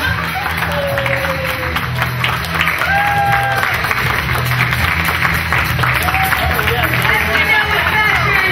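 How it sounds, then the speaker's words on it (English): Audience applause and crowd noise at a cosplay contest during the contestants' final walk at a convention, a steady dense wash of clapping and hubbub with voices mixed in throughout. "Give them a round of applause."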